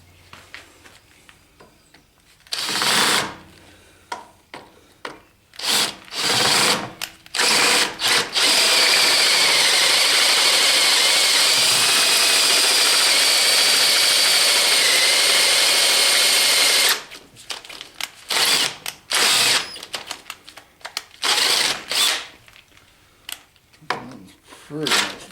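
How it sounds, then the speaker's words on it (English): A battery drill with a big bit, its battery running low, bores off a nut on a bar from a Kuhn mower rebuild: short stop-start bursts, then a long, loud, steady grinding run of about eight seconds, then more brief bursts. "This nut's got to be cut off. I'm going to take this big bit"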